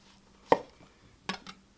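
A knife chopping the ends off a zucchini on a board, three crisp, separate cuts with a quiet pause between them.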